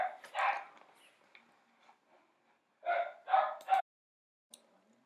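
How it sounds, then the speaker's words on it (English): A dog gives a few sharp barks, one early and a quick double burst later, near and clear against a quiet background. "just having a little bark there at somebody."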